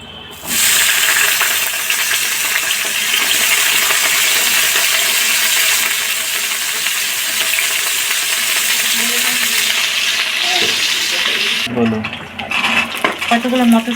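Potatoes drop into hot oil and begin frying in a home vegetarian kitchen: a loud, steady hiss and sizzle runs throughout, with clinks of a utensil against the pan near the end.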